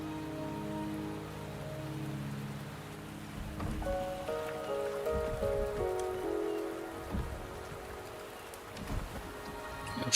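Steady rain patters in Wuthering Waves as a soft, even hiss of falling drops, with faint tonal game music notes drifting over it throughout.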